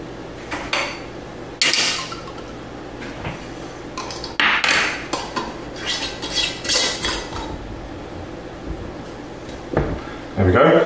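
A lid goes onto a jar of home-canned sauce in a kitchen: sharp glassy clinks and metallic taps come close and loud in several separate bursts, with quieter handling noises between them.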